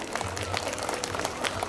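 A short burst of dense, crackling applause from the audience at a Sophia English High School event, steady and fairly loud throughout with no break.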